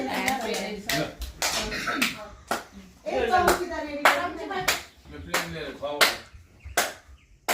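A family at a Mother's Day gathering claps hands in repeated short bursts of sharp, close claps, with pauses between rounds and children's voices talking in between.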